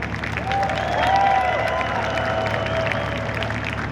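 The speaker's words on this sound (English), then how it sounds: "would you please provide a nice warm round of applause" A large crowd gives warm applause with some cheering in a hall before a university marching band's friends-and-family performance, swelling then holding steady over a low hum.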